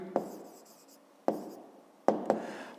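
A pen writes an answer on paper for a fifth-grade math exercise, giving four sharp close taps and short scratchy strokes spread irregularly, with quiet room tone between and no speech.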